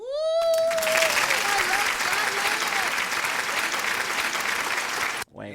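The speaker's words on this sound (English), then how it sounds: "We ain't gonna give him that much hand clap" An audience claps and cheers in a loud burst of applause that holds steady for several seconds and then cuts off abruptly. A short cry rises at the start, and a voice comes in at the very end.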